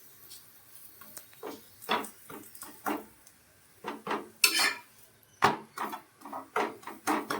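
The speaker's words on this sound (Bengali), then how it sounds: "ভেজে নিচ্ছি।" An egg roll cooks on a tawa brushed with a little oil, with repeated sharp clatters and scrapes of a utensil against the pan in an irregular rhythm, close and fairly loud, with no talking.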